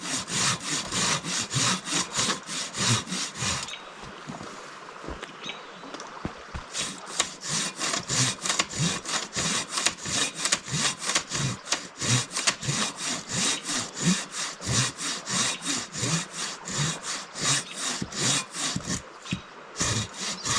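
A Katanaboy 500 folding saw cuts through a log during outdoor trail work, with steady rhythmic back-and-forth rasping strokes that continue almost without pause, close and loud, with one brief slowdown early on.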